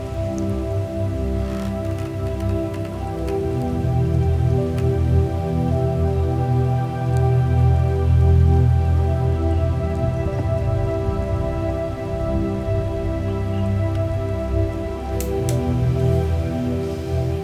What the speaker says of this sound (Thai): ลมและฝน ยังคงสาดเข้ามาที่หน้าบ้านพัก